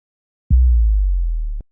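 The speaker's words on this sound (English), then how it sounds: "use this other 808 style, which is called 808 jungle." A single deep, booming 808-style bass note, sustained for about a second with a slight downward pitch glide before it cuts off cleanly.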